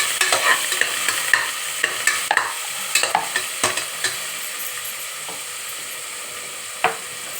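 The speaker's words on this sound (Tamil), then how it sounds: "நல்லா வெங்காயத்தை வதக்கிக்கோங்க" Onions with a green chilli sautéing in a pan, a steady close sizzle broken by repeated spatula scrapes and taps against the metal, busiest in the first half, with one sharp knock near the end; no talking.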